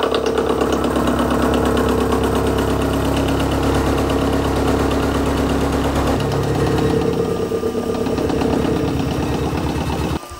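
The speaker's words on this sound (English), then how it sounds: "I'm going to cut a hexagonal face on the front of this piece of brass" A CNC machine with a fourth axis cuts a hexagonal face on a piece of brass, giving a steady loud mechanical drone with a rhythmic chattering pulse that runs without a break until it stops at the end.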